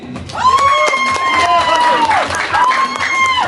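A crowd of family and friends at an 18th birthday party cheers and claps to vote for a contestant, with loud sustained whoops and whistle-like tones over steady clapping, fairly close and continuous.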